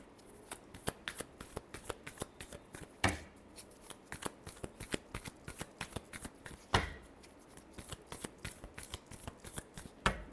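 Tarot cards are shuffled by hand in quick, riffling bursts of crisp card slaps, repeated many times at a close, quiet level with short pauses between them and no speech.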